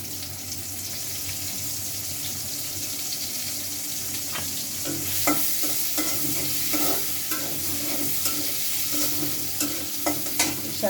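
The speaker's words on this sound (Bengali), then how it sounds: "তো এখন কড়াইতে আমি তেল দিয়ে পেঁয়াজ দেবো এখন।" Onions frying in oil in a wok, with a steady broadband sizzle and repeated sharp scraping clicks of a utensil stirring against the pan, fairly close and without speech.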